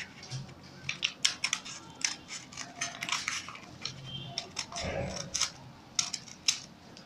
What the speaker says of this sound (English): Now that we are done drafting, we'll cut out.